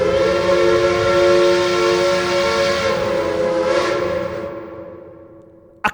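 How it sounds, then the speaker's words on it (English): A steam train whistle blows one long, loud, steady shriek that fades out near the end, followed by a short sharp knock. "a long whistling shriek"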